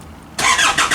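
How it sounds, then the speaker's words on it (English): A 1998 Nissan Elgrand with a 3.2 litre diesel engine cranks briefly and fires straight into a loud, close running note after a moment of quiet. "Now I'm gonna turn on the engine so we can hear."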